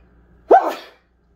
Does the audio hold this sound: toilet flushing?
no